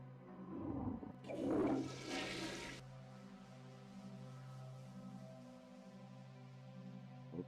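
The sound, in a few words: toilet flush sound effect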